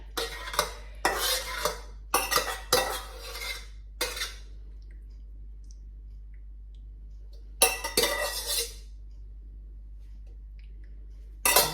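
Tomato pasta sauce spooned from a pan into a dish, with a run of close scraping and clinking spoon strokes, a pause, then another short burst of scraping.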